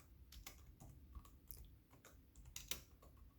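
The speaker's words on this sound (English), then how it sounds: "Sorry, I know the one-handed typing's rough." Quiet, irregular keystrokes tap on a computer keyboard in short bursts, close by, with no voices.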